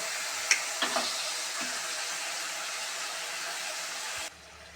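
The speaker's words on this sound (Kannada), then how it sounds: "ಈಗ ಹಸಿಮೆಣ್ಸಿಕಾಯಿ ಎಣ್ಣೆ ಜೊತೆ ಫ್ರೈ ಆದಮೇಲೆ ಈಗ ತೊಳೆದಿಟ್ಟಿರೋಂಥ ಮಟನ್ ಹಾಕ್ತಾಯಿದ್ದೀನಿ" Mutton hitting hot oil with green chillies, a loud broad sizzle with a few sharp pops and clatters near the start, steady frying hiss that drops off abruptly near the end.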